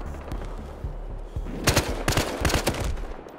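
Rapid gunfire in the cops-and-robbers shooter Battlefield Hardline, a loud run of close, sharp shots in quick succession over steady game background noise.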